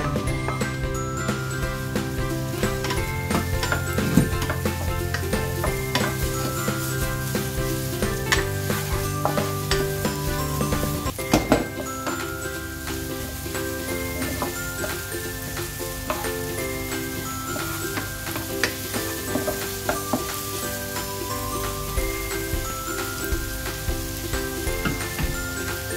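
Ginger and shallot cook in a pan for igado, a steady sizzle with repeated clinks and scrapes of stirring running throughout, close and fairly loud with no talking.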